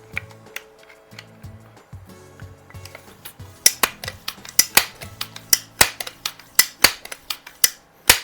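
Sharp, irregular clicks from the worn pump-arm joint of a Crosman 110 .22 pump air rifle, growing louder and denser in the second half as the arm is worked, close up with no talking.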